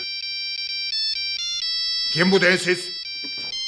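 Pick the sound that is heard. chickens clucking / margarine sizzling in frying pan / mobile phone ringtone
mobile phone ringtone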